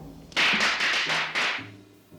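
A rapid string of sharp pops, about six bursts in quick succession, fairly close, then fading into quiet background.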